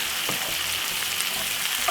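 Vegetables fry in a pan over medium heat, giving off a steady, close hiss of sizzling with a few soft stirring scrapes and no talk.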